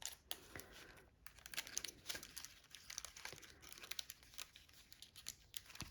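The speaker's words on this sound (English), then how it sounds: "I'm gonna slip it inside this clear envelope." A greeting card slides into a clear plastic envelope, making faint, close crinkling and rustling in short irregular bursts, with quiet pauses between handlings.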